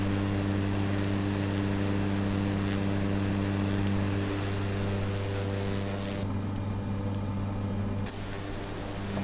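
A Cessna Grand Caravan's propeller engine drones steadily and loudly in Microsoft Flight Simulator, a constant humming tone with a slight shift in pitch partway through and no talking.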